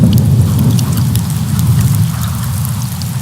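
Steady, dense rain falls continuously, a loud broadband wash with scattered drop patter on a surface and no voices.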